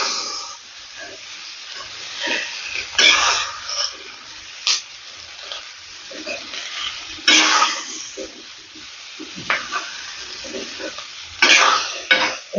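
Bora rice batter stirs and fries in a pan: a continuous hot sizzle broken by repeated louder bursts of scraping and stirring strokes, with no talking.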